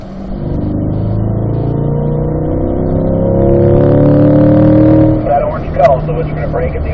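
A Corvette C8 accelerates in fourth gear on a driving-school track. The engine drone climbs steadily in pitch, loud and close, then eases off near the end, with voices heard over it.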